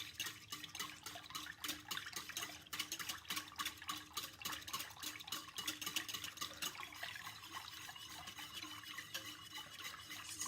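A whisk works steadily through hot process soap batter heated to about 174°F, giving a continuous wet, sloshing rhythm of close, quick strokes with no talking.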